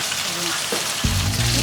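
Thin pork shabu-shabu slices fry in a frying pan with a close, steady sizzle, and a voice talks over the hiss during the second half.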